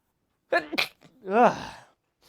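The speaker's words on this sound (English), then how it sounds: "I gotta sneeze." A single close sneeze with a sharp intake followed by a loud, drawn-out burst, then quiet.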